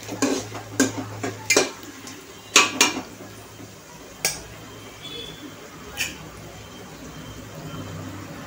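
Onions frying in a pan for egg rice, a low sizzle under repeated sharp clinks and scrapes of a spatula stirring against the metal.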